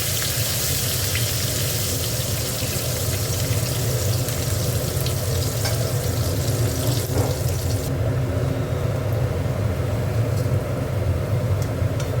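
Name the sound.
onions frying in oil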